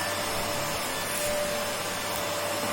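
A household vacuum cleaner sweeping up toys indoors, its motor giving a steady, fairly quiet whine and hiss that runs unbroken throughout, with no talking.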